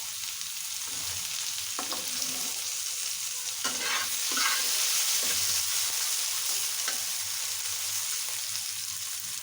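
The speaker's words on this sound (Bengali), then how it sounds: "এগুলোকে ব্রাউন কালার করে ভেজে নেব।" Turmeric- and salt-coated potatoes fry in oil until brown, giving a steady close sizzle throughout, with a few soft stirring scrapes and clinks partway through and no talk.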